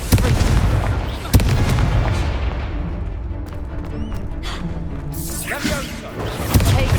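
Repeated Confringo blasting spells from the Hogwarts Legacy video game fire as sharp booming impacts over dense combat noise, with a strong hit near the start and more bursts later.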